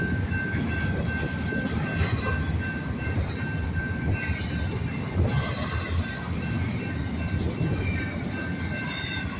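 Continuous loud rumble and rattle of a passing train, with a steady rail whine running throughout and occasional clicks of wheels over track joints.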